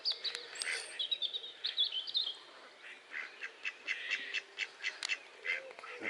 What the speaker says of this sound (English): Quite a conversation with this duck.